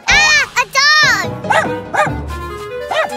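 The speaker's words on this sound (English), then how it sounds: "Ah, a dog!" A cartoon dog gives a run of high, yappy barks and whimpering yips, close and loud. A bright, childlike animated voice mixes in with the barks in places.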